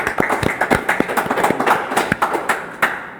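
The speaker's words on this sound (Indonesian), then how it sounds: "Kasih tepuk tangan Mas." Sharp hand claps ring out in a steady, fairly quick rhythm, close and distinct, in a quiet podcast studio with no talking over them.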